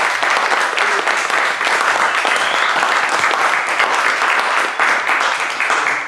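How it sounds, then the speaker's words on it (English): An audience at a Toastmasters club meeting gives loud, sustained applause, a dense, even roar of clapping close by. "I think you definitely deserve a round of applause."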